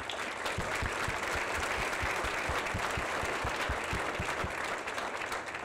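Audience at a college football coach's introductory press conference, Akron Zips 2018, applauding steadily for several seconds; a dense, even wash of clapping at moderate distance with a faint low rhythmic thump underneath, no talk.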